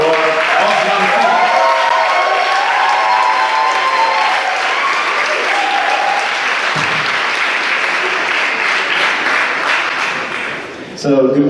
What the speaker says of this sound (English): So I ask you to give a round of applause for OSRAM.